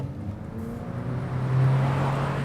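A 2019 Honda Insight hybrid car accelerates, its engine hum rising in pitch and growing louder into a steady drone, heard from inside the cabin with no voices.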